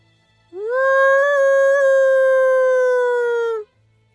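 One person imitates a werewolf howl outdoors among trees by the water, a single loud, close, sustained tonal howl lasting about three seconds that rises at the start, then holds steady before cutting off.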